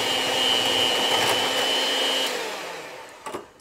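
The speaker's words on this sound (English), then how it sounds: "Beat gelatin mixture until smooth." An electric hand mixer whirs steadily as it beats a gelatin mixture for a White Christmas pie, a loud constant motor drone that cuts off near the end, followed by a few brief clatters.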